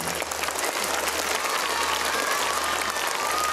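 Dense, steady applause from an audience at a school annual day, many hands clapping together in a continuous even wash that fills the whole moment, with no talk over it.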